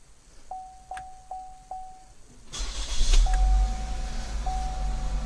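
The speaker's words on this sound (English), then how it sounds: "We're going to press the push to start button and start the vehicle." A car with a push-to-start button and plug-and-play remote start fires up. A few soft electronic chimes come first, then the engine cranks and catches with a sudden burst and settles into a steady idle, close by, with no talk.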